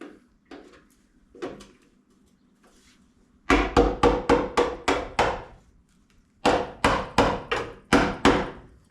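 A hammer strikes rusty metal on an RC model repeatedly in two rapid bursts of hard, ringing blows, preceded by a few softer knocks and quiet pauses.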